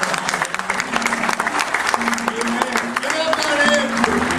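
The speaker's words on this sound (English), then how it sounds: "Give God a hand clap." A church congregation claps hands in dense, sustained applause, loud and close, with some voices mixed in beneath the clapping.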